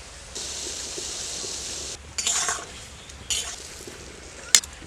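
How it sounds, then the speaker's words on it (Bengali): Cut cauliflower florets go into hot water in a wok, giving soft bubbling and sizzling with a few utensil stirs and a sharp clink near the end; no talking. "জলটা গরম হয়ে গেছে, আমি কেটে রাখা ফুলকপিগুলো দিয়ে দিচ্ছি"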